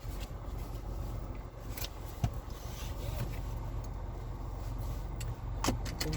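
Inside a moving car, the road and engine make a low, steady rumble at quiet level, broken by a few faint clicks and rattles.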